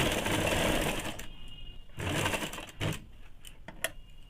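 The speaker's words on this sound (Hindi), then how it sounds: "इसी प्रकार से हम लोग दूसरे साइड का भी सिलाई डाल देंगे।" Sewing machine stitching the side seam of a ladies' scarf (muffler), running in a steady continuous whirr for about a second, then stopping and restarting in shorter bursts, close and fairly loud with no talking.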